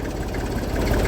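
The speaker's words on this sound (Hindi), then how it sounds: "माटे ट्रैक्टर चल रहा है।" A tractor engine runs close by in a hot field setting, a dense, steady low-to-mid rumble that fills the short moment with no pause.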